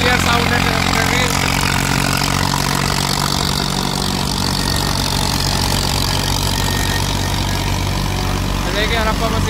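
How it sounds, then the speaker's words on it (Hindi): A Preet 4549 tractor drives a thresher with a loud, unbroken mechanical roar and churning drone, very close, and voices can be heard over it. "देखिए प्लीज 4549 वेदर में चलता हुआ। ये देखिए बिल्कुल क्लियर साउंड है"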